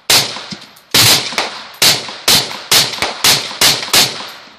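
A 12 gauge shotgun fires at an outdoor target: about nine loud, sharp blasts in quick succession, each with a short echoing tail, close and with no talking.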